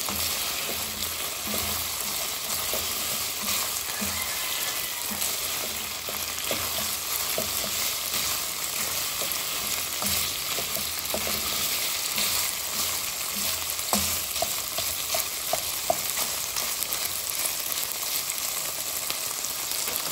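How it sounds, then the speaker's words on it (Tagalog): Food frying in a pan before garlic and onion are sautéed, a steady close sizzle with scraping stirs and occasional pops, going on throughout with no talking. "Medyo pritohin natin ito ng konti."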